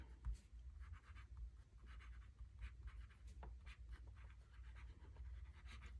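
A pen writes in ink on Cosmo Air Light paper, with soft, close scratchy strokes in short repeated bursts over a low background rumble, faint and continuous.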